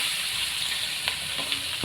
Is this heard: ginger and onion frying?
yes